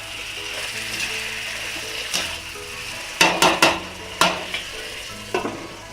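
A metal spatula stirring spicy potatoes and cauliflower in an iron kadhai (wok), giving several sharp scraping knocks and clatters in two clusters over a steady background hiss, fairly close.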